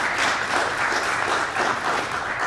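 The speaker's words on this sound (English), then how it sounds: "So give him a big round of applause" Audience applause at an executive leaders' meeting, steady dense clapping from a crowd that fills the whole stretch without letup.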